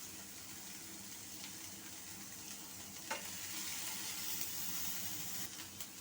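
Red capsicum pieces fry in a pan with a soft, steady sizzle, and one brief clink or stir sound is heard midway, all fairly quiet with no talking.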